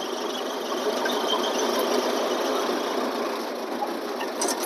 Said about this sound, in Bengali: যদি আপনি বাসের ইঞ্জিনের কাছে বসে থাকেন